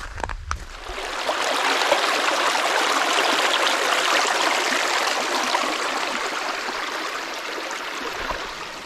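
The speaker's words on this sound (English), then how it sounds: "Do you hear that sound of running water?" Continuous rushing of a stream in an Arkansas ghost town, a steady bright wash of flowing water, close and fairly loud, with no voices.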